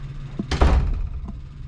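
A classroom entrance door at an HVAC training facility opens with a solid knock-like thunk, followed by a brief rattle and a faint second bump, close by and alone.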